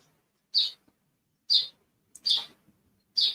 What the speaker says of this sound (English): We get these crows that come around here.